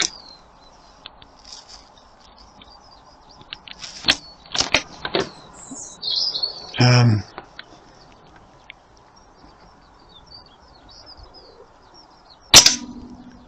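Rifle shots fired at a target while sighting in an unzeroed scope, heard as a few sharp, loud cracks spaced over several seconds, with a final shot near the end and quiet background between.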